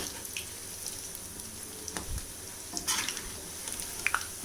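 Cabbage and chana dal pakoras fry in hot oil, a soft continuous sizzle with a few light clinks and scrapes as they are turned over.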